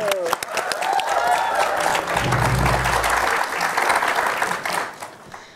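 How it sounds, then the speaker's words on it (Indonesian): An audience at a televised Indonesian comedy roast breaks into loud, sustained applause that swells and then tapers off near the end, with some voices mixed in. "Tepuk tangan."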